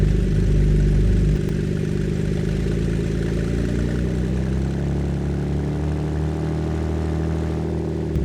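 A Ford Flex EcoBoost engine idles at about 1,000 RPM with no exhaust fitted, a steady loud raspy drone that holds constant throughout with a slight shift early on.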